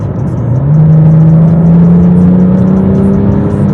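A luxury car with a head-up display accelerates hard, its loud engine tone rising steadily and close for several seconds with no talking.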